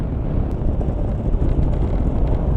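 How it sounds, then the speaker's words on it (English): Heavy buffeting wind roar on a moving motorcycle fitted with a windscreen, loud, dense and continuous, with no voices. "They make the wind louder,"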